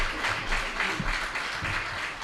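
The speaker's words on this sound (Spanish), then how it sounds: "Un aplauso." An audience claps at a theatre performance, a steady wash of applause held at an even level throughout, with faint voices mixed underneath.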